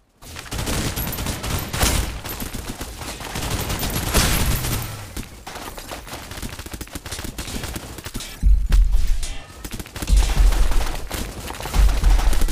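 Gunfire in the video game Snowbreak: Containment Zone, a dense fusillade of rapid shots mixed with machine-gun bursts, loud and sustained throughout with heavy low-end thumps in the later seconds.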